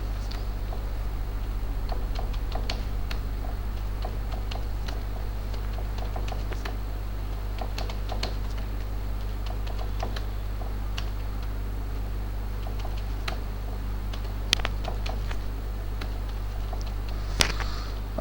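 Steady typing on a computer keyboard while entering names and courses into a spreadsheet, continuous light key clicks near and even in rhythm over a constant low hum, with a couple of louder keystrokes near the end.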